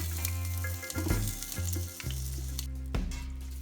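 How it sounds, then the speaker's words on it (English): Peppers and onions frying in hot oil for a vegan curry base, giving a steady close sizzle with a few brief bumps and clatters as the vegetables go into the pan. "Throw those in there in the hot oil. Don't let them burn though, make sure to be careful. Now we're going to add the peppers and onions."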